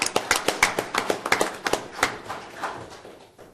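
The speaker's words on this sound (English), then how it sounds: "Yes, you guys can clap for that." A small audience at a city council meeting claps after a motion passes, a sparse scatter of sharp, close hand claps that thin out and fade to silence within a few seconds.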